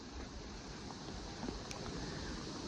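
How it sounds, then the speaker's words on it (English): Strong wind blows across foot-deep snow on a dog walk, a steady low roar buffeting the microphone that stays constant for the whole stretch. "All right, you hear that wind?"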